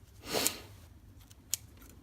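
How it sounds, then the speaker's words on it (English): Two crisp snips of dull scissors cutting through paracord, one louder stroke followed by a shorter one a second later, close up and quiet otherwise. "take your scissors and just clean up these ends"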